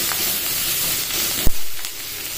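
Fish, potato and vegetable curry cooking in a pan gives a loud, steady close-up sizzle and hiss, broken by one brief knock partway through, with no talking.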